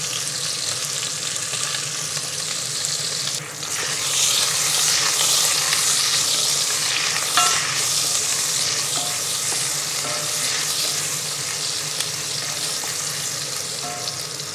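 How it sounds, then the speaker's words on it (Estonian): Sliced carrots fry lightly in a pot as the first step of a wine-braised moose stew, giving a steady, close sizzle with occasional stirring scrapes that continues throughout without any talk. "Praeme kergelt läbi,"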